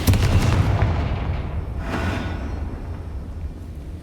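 A Bombarda spell explosion in Hogwarts Legacy hits as a heavy booming blast at the start, then a sustained low rumble with a second swell before slowly fading.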